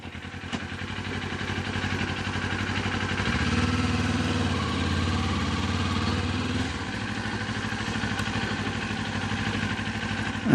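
A 2025 Kawasaki Ninja 500 idles steadily while warming up, a low, even engine thrum close by with a slight rise in the middle and faint mechanical clatter.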